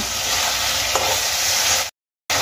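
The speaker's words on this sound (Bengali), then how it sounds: "এবার আমি আলু আর গাজর কিছুক্ষণ ভেজে নেব।" Potatoes and carrots fry in a pan for a homestyle vegetarian cabbage dish, giving a steady close sizzle with one brief stir or scrape before the sound cuts to silence near the end.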